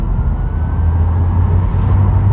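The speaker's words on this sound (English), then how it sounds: "let me floor this car because I've heard that this is a pretty quick car" An Audi e-tron GT electric car accelerating hard at full throttle, heard from inside as a steady, loud low rumble of road and drivetrain noise with a faint rising whine, no talking.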